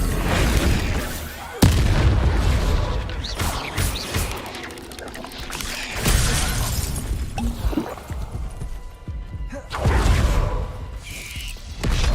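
Bombarda spell explosions in Hogwarts Legacy, several loud booming blasts with crashing, shattering debris, each hit striking sharply and then rumbling away, alone with no talk.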